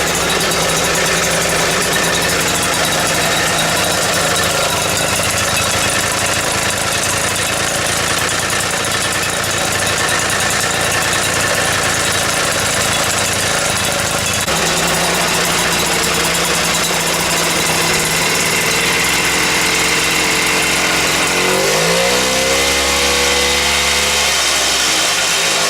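Atco lawn mower with a two-stroke engine running steadily, a loud, close, continuous buzzing drone with a rough knocking edge, shifting pitch briefly near the end, no talking.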